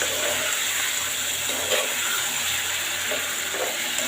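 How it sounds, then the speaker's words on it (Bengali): Pigeon meat with spices and tomato sautéing in a pan gives a steady, close sizzle and hiss with a few soft scraping stirs, and no one speaks. "মাংসের মশলা কষানো হয়ে গেছে, আমি টমেটো দিয়ে দিয়েছি। এখন ভালোভাবে কষিয়ে নেব।"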